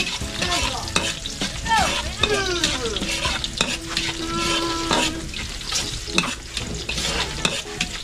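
Garlic sautés in a hot pan, giving a loud, steady sizzle with scraping stirs, while a voice talks over it.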